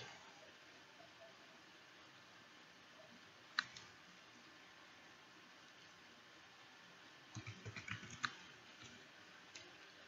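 A computer keyboard's Enter key is pressed, giving one sharp click midway, then a short cluster of faint key taps and clicks near the end over quiet room hiss.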